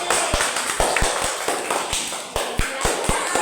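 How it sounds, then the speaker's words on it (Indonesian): Children in a classroom clap together as group C is applauded, a steady run of sharp, evenly spaced claps over a busy background of rustling and murmuring. "Oke, tepuk tangan yang kelompok C."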